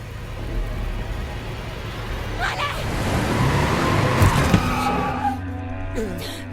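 A car in the video game The Quarry revs and skids with tire squeal and road roar that swells toward the middle, while a voice talks over the action.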